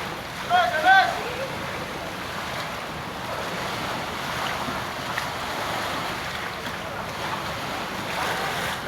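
A small outrigger bangka arriving and docking at the shore, heard as steady surf and wind rumbling with a brief louder bump near the start, voices faintly present behind the water.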